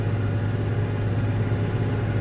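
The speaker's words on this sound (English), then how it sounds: "just gonna run the bagger for these last two loads here" A steady, droning silage bagger engine runs continuously at a constant pitch while bagging chopped corn silage, loud and close, with a low rumbling hum and no pauses.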